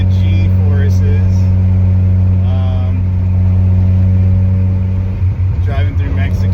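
A car with a stock 13B-REW rotary engine and a BorgWarner S364sxe turbo accelerating: loud, constant engine hum with a steady low tone, and talking partly over it near the end.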